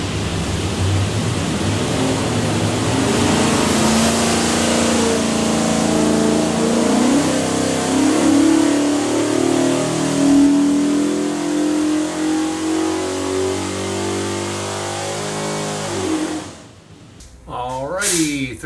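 Ford 427 Windsor V8 built for a 1978 Ford F100 roars on a dyno, climbing steadily in pitch under full load for a long pull, then cutting off and dropping away near the end.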